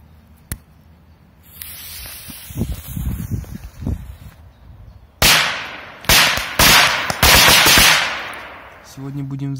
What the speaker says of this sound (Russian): Сегодня будем взрывать вот такую игрушку мощными петардами П-23.